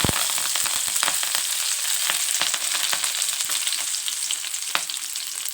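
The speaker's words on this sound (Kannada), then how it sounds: "ಉಳ್ಳಾಗಡ್ಡೆ ಹಾಕೊತೀನಿ ಇದನ್ನು ಸ್ವಲ್ಪ ಹುರ್ಕೋಬೇಕು" Onions fry in hot oil with mustard seeds, cumin, garlic and curry leaves, making a constant close sizzle dotted with sharp crackles and pops throughout, with no speech.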